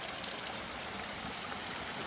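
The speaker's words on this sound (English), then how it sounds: "I hear some water." A creek runs and splashes over rocks at Fall Creek in West Arm Provincial Park's nature reserve. A steady, even rush of flowing water continues without a break, soft and somewhat distant, with no voices.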